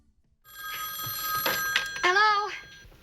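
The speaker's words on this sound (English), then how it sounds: "Janet, what took you so long to answer the phone?" A telephone rings in a 1970s sitcom scene, its bell sounding briefly under a studio soundtrack with some talk and an audience response.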